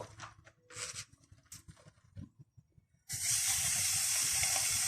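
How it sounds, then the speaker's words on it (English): Minced pork hits a hot pan and breaks into a loud, constant sizzle, preceded by scattered clinks and handling noises in a kitchen. "We're just going to fry that down till it's all coloured and cooked."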